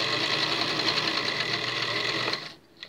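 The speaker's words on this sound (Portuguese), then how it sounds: "E vamos costurar toda a parte aqui da frente, primeiro que eu peguei." A sewing machine stitches along the front of a fabric puppet with a close, loud, continuous whirr, then stops abruptly near the end, leaving a faint click.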